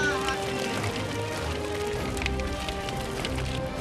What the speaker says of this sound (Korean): 그런데 물고기 파닥거리는 소리가 꼭 빗소리 같죠.